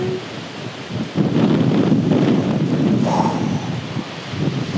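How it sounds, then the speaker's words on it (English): Strong wind roars across an open lochside in Scotland, a steady broadband rush that swells louder after the first second and holds, with a brief word spoken faintly at the start. "Hear that wind, it's so strong."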